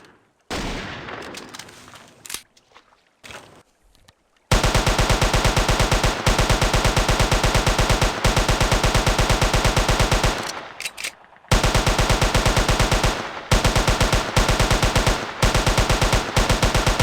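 Rapid, relentless gunfire in the Jurassic Park Hunter Legends video game, fired as sniper rounds and a full SMG clip, with long loud bursts of evenly spaced shots broken by brief pauses.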